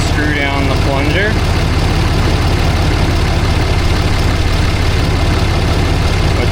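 A Ram pickup's 6.7 Cummins diesel idles steadily with a low, continuous rumble, and a person talks briefly over it at the start.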